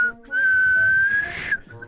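A person whistles one long sustained note that rises slightly in pitch, loud and close, with a brief shorter note near the end and faint background noise.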